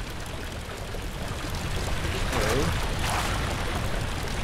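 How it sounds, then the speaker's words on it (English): A loose pipe in Amnesia: The Dark Descent leaks water in a steady, hissing stream that swells slightly louder midway. A voice briefly speaks over the close, continuous gush. "One pipe is loose and leaking water"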